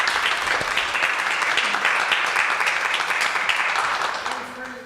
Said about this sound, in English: So if you guys can give them a round of applause, that'd be great